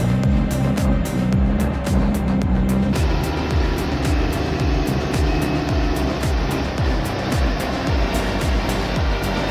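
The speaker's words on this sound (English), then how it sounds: "Finally, after several tries, the truck successfully navigates the turn." A heavy timber transport truck grinds through a tight turn, its engine droning steadily with rising and falling tones as it works, loud and close, with a brief rhythmic clatter early on and no talking.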